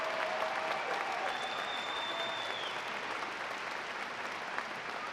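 Steady applause from a large crowd at a university commencement ceremony fills the whole stretch, dense and continuous without pause.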